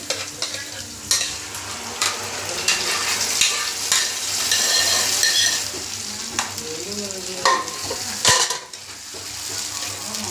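Onions, red chillies and coriander leaves fry in hot tempering oil for a fenugreek-leaf dal, giving a continuous close sizzle broken by repeated metallic stirring scrapes against the pan.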